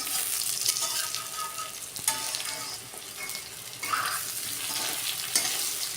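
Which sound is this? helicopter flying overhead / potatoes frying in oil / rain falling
potatoes frying in oil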